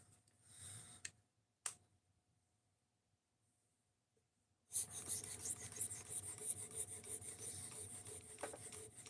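Knife blade rubbed on a 1200 grit sharpening stone, a couple of brief scrapes and a tap, then a near quiet pause, then a sustained raspy grinding at close range.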